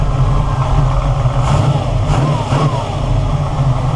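A 1969 Camaro V8 fitted with FiTech fuel injection runs close and loud, holding a steady rumble with a few quick throttle blips that rise and fall, heard alone without talk.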